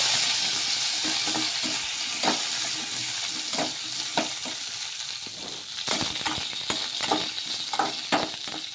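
Cumin, garlic and green chillies fry in a pan with a constant close sizzle, while a spoon stirs them in repeated scraping strokes.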